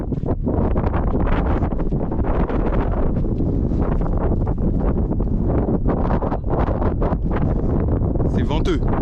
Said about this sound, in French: C'est venteux, comme vous pouvez le voir et l'entendre.